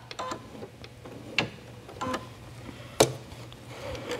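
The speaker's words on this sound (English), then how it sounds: "send the needle down, send it up, give a little tug" A home embroidery sewing machine makes a few sharp clicks and brief stitching bursts while lingerie is being embroidered, close and moderately quiet over a steady low hum.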